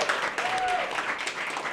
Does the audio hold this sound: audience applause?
yes